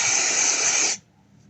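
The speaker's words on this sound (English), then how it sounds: "I saw someone actually using the holding spray for this" Hair holding spray hisses steadily onto a weave in one continuous close burst lasting about a second, then cuts off abruptly into near silence.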